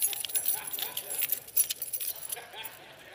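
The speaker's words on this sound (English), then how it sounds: "And then I gave them the keys like that." Metal keys jangling as they are passed from one hand to another, a bright continuous rattle with a few sharper clinks near the middle, close and fairly quiet.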